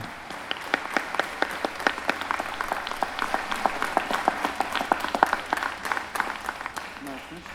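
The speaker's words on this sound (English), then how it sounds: "Please give them a round of applause." Conference audience applauding invited guests, dense clapping with crisp individual claps popping out near and loud, and a voice briefly audible in the background.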